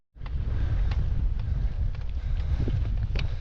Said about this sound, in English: It's really windy around this side of the glen